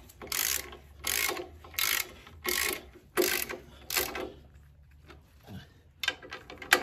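A ratcheting torque wrench snugs clutch pressure plate bolts on a VW Super Beetle in repeated close bursts of rapid clicking, with a pause, then a few more quick clicks.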